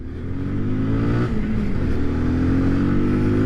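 A 2020 Kawasaki Z125 Pro motorcycle engine rises steadily as the bike pulls away, a loud, close, continuous drone with a brief dip in pitch before it climbs again, with no talking.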